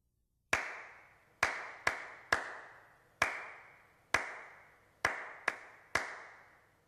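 Sharp hand claps for a keyboard rhythm exercise, nine crisp strikes in an uneven rhythm, close and clear with brief ringing decay after each, and no voices.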